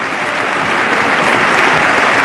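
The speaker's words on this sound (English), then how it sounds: "everybody applaud" Loud, dense applause from a crowd, steady and sustained with no break, many hands clapping at once.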